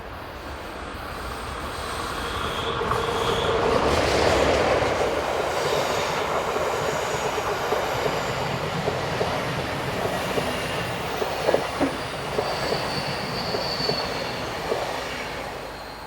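An electric locomotive hauling an intercity train rumbles steadily past at a moderate distance on the Gotthard south ramp, rising then holding, with faint wheel squeals and clatter over the rails.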